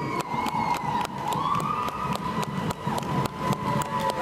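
A wailing ambulance siren at a Veterans Day parade in St. George, Utah sweeps up and down continuously at fairly close range, loud and steady, with rhythmic clicking pulses underneath.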